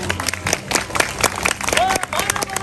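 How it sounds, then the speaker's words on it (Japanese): Audience applause at a ninja troupe's performance during a local festival, a dense, lively patter of many hands clapping with crowd noise and an announcer talking over it. "本当に大きな拍手をありがとうございます"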